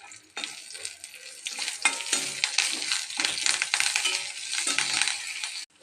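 Red chillies, cumin, black pepper and curry leaves dry-roasting in a pan, a steady dry rustle and crackle with scraping stirs that runs close and continuous for several seconds before cutting off near the end, with no one talking.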